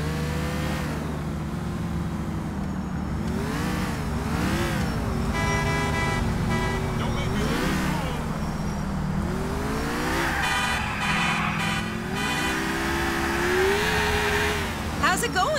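A car test-driven in the video game GTA IV, its engine revving up and down in repeated waves with brief tire squeals, as people talk over it.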